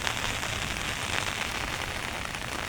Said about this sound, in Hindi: आज सुबह ही सुबह बारिश होने लगी है